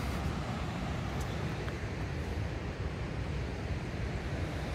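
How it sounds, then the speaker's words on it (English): A waterfall on a Boundary Waters canoe portage near Crooked Lake heard as a constant broadband rush, even and unbroken, fairly faint and without speech. "gonna go get a good look at this waterfall"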